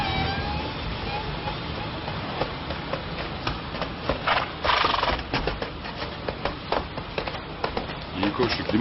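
A horse just back from a ride snorts and whinnies while hooves clip-clop irregularly on hard ground nearby, with people talking over the sounds.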